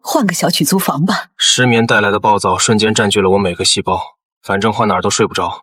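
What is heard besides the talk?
No distinct noise like a dog, phone or traffic.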